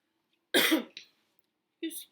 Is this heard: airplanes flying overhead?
no